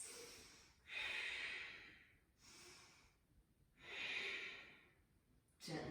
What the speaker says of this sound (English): Deep ujjayi breaths.